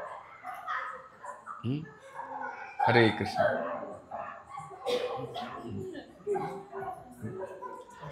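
Dogs yip, bark and whimper in short bursts while a person talks over them.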